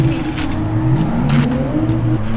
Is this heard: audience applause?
no